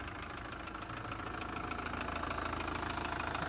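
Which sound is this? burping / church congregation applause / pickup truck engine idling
pickup truck engine idling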